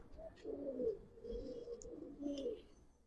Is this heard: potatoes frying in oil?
no